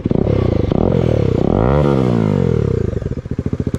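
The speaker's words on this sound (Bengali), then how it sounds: "বাইকের আওয়াজ চেকই করতেই পারছো, কি আওয়াজটাই না দিচ্ছে বাইক।" A motorcycle with its exhaust silencer removed runs loud and close, the engine swelling and falling in a rev before settling into a rough, pulsing idle. There is no talk over it.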